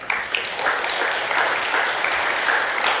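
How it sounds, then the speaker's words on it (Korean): An audience at a 2025 KOICA recruitment briefing applauds, a dense, even wash of clapping that holds steady for several seconds with little else audible. "긴 시간 동안 좋은 얘기 많이 해주신 인사채용 담당자분들께 큰 박수 다시 한번 부탁드립니다."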